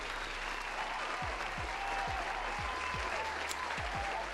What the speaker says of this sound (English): Let's get an applause in here, eh?